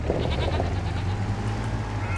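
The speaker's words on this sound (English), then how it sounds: "I got 50 goats and I think 150 sheep running around in there" Goats and sheep bleating in Farming Simulator 25, a dense overlapping chorus of bleats from a large flock over a low steady hum.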